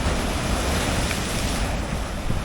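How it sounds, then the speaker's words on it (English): Sea waves and swell at high tide on the Whitby coast, a broad continuous roar of surf mixed with wind buffeting the microphone, loud and unbroken. "Bit of swell in the sea."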